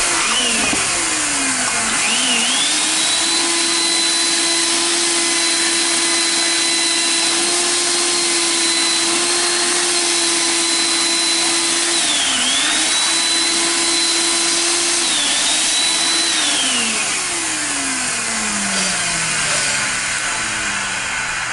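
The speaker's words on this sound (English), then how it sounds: "So we always try to vacuum our chips." A shop vacuum runs steadily while metal machining chips are sucked up after counterbores were cut for valve seats in a GM 4.3 forklift engine head, its motor whine holding a constant pitch with brief dips and winding down at the end.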